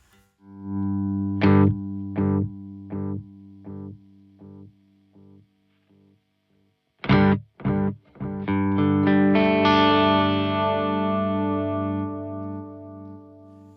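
Electric guitar through a Walrus Audio ARP-87 delay pedal in analog mode plays a run of separate plucked notes, then strummed chords that ring out with soft, warm repeating echoes trailing behind, no talking.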